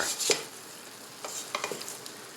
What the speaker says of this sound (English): Let's give this all a nice stir.